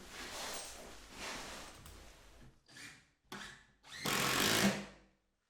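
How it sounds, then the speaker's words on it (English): A power driver sends a screw into the bottom of a timber door frame leg, whirring in one longer run, then two short bursts and a final stronger burst, fairly faint and close. "We'll start off by just putting a screw in the bottom."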